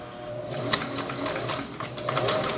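Domestic sewing machine running a zigzag stitch of about length 2 at normal tension, a quick continuous whir with light rapid ticking, close and alone.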